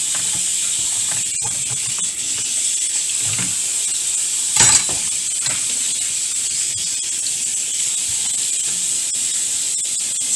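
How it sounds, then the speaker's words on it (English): Potatoes and onions are washed together under running tap water: a steady, close hiss of flowing water with occasional soft knocks and splashes as the vegetables are handled. "I'm moving forward to washing the potato and the onions at the same time,"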